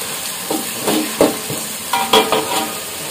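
Ginger frying with spring onion in a pan, a steady sizzle with intermittent scraping stirs and a few sharp clinks, close, no talk.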